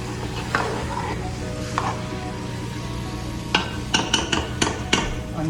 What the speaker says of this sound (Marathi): मिक्स करायचं व्यवस्थित.